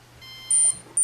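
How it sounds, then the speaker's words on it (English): Three high-pitched electronic beeps from a Loc8tor locator tag sound in quick succession, clear and close, over a faint steady hum. "It will then beep 3 times or twice."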